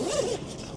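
A smooth waterproof zipper on an airgun hunting backpack compartment gives one quick, close pull that is over in under a second.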